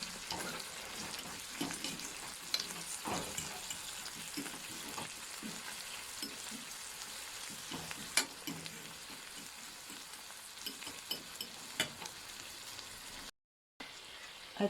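Chicken and ramen noodles stir-frying together in a pan, a quiet continuous sizzle broken by frequent clicks and scrapes of a utensil, with a brief dropout near the end.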